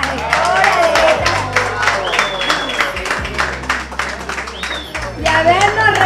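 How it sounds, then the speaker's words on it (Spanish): A group claps together at a friends' reunion, a dense patter of hands filling the room for several seconds while voices mingle and a few cheers rise through it. "Un aplauso para Jackie porque es la que la gestora de esta."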